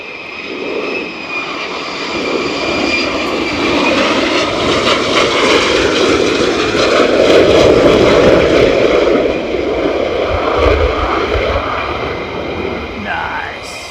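F-35A jets flying a run and break at RAF Lakenheath, a loud sustained jet roar swelling as the aircraft pass overhead and then easing, heard from the ground close by.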